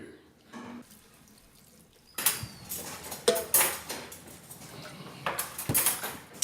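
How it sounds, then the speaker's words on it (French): Washing up by hand at a kitchen sink: plates, pots and cutlery clink and clatter in irregular bursts amid running and dripping water, close by, with faint speech in the background. "Je termine la vaisselle, hein, d'abord."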